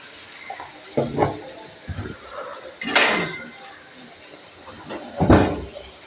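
Chopped onion sautéing in a pan, heard as a few distinct bursts of stirring, scraping and clattering against the pan with a soft frying hiss between them, close and moderately loud.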